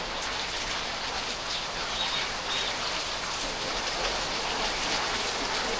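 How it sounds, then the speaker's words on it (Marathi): Steady rain falls in a home garden, a dense, even patter of drops on leaves and surfaces, continuous and moderately loud with no voices over it. "हे बघा पाऊस पाऊस पाऊस आमच्या गार्डनमध्ये"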